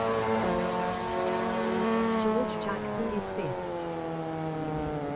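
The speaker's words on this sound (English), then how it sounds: "coming down into the first chicane, off the hilltop, heavy braking for the right-hander" Race cars in a clubman championship round brake hard into a right-hand chicane coming off a hilltop, their engines droning loudly with downshifting pitch and brief tyre squeal, continuous and fairly close, with a commentator talking over them.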